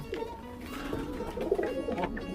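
Pigeons in a loft cooing at feeding time, soft overlapping throaty coos close by against a low background hum.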